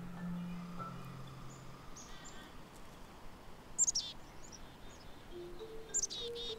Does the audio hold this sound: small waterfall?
no